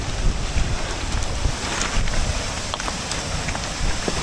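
Gusty wind roars and buffets the microphone on the Alpine Loop in Colorado, near Poughkeepsie Gulch, as a loud, continuous broadband rush that swells in uneven pulses.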